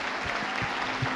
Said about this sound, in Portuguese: uma salva de palmas à nossa comunidade